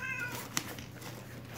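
A cat meows once near the start, a short wavering cry, followed by a brief sharp click, with faint airy noise beneath. The sound is quiet and close.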